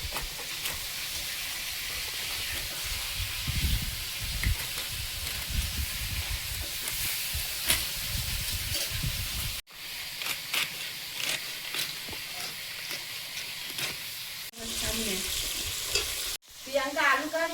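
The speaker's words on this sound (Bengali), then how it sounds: "মাছ ভাজা হচ্ছে" Pieces of fish fry in a pan with a loud, continuous hissing sizzle and crackle, interrupted by a few abrupt cuts, with occasional clinks and stirring noises and no talking.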